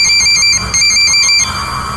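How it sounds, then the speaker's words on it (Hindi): A telephone rings with a steady, bright electronic trill, loud and close, repeating without pause and cutting off near the end. "रात को वापस घर लौटते वक्त शुभ्रो का फोन बजा।"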